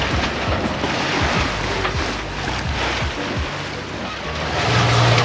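Sailboat motoring through waves off the Turkish Riviera near Knidos, with steady wash and surf noise, wind buffeting the microphone and a low engine hum beneath, with no talk.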